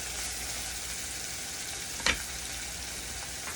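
Ackee frying in a pan with black pepper gives a steady, faint broadband sizzle throughout, broken once by a single short clack of a utensil against the pan midway.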